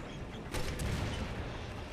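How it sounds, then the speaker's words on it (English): A video game explosion in Resident Evil 6 co-op play: a broad, rumbling boom swells about halfway through and lingers as a dense, loud low roar with gunfire-like crackle on top. "Okay, that explosion should have killed him."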